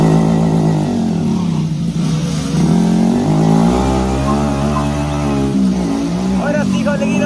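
Two Hero Splendor motorcycles, one BS4 and one BS6, rev hard in a tug of war, their engines droning loudly and continuously with rising and falling pitch, while voices shout over them.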